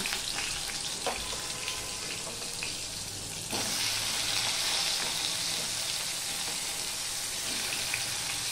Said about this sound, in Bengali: নুনটা দিয়ে আমি বেগুনগুলো প্রথমে ভেজে নেব